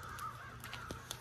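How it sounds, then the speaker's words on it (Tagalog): Crows calling in the morning: a few faint, distant caws in quick succession over a soft background hum. "mga ibon."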